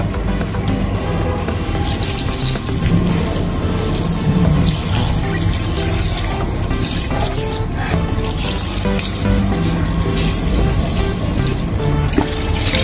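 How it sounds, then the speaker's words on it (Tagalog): Continuous splashing squeezed coconut milk pours steadily into a pot, a close, full watery rush lasting throughout without talk. "buhos natin yung pangalawang piga"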